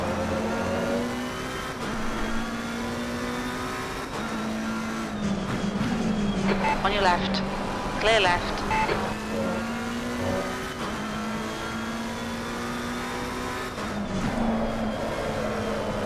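A race car engine in a racing sim drones steadily while the car is held sideways in an oversteer drift, revs rising and dipping slightly with tire noise; a voice briefly calls out over it.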